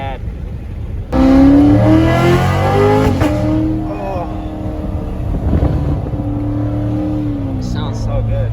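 A Corvette fitted with a loud aftermarket exhaust starts and revs hard close by, a sudden booming roar settling into a rumbling idle with wind noise, while people talk and exclaim over it.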